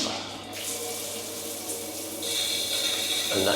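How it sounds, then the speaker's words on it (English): A powerful rainfall shower in a new hotel bathroom in Pattaya runs hard and steadily, a dense hiss of falling water that grows slightly louder partway through. "that's a very nice powerful jet coming out of that one"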